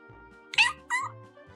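Two short, bright meows in quick succession from a house cat, alone against a quiet indoor background with a faint steady tone.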